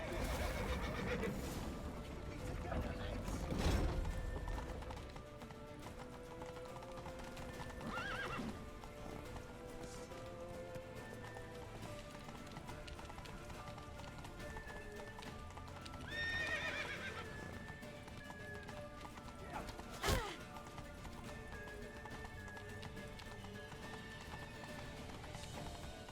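Horses in the video game Witcher 3 gallop with rapid hoof clip-clops and neigh repeatedly over an action scene, with several whinnies standing out among the running hooves.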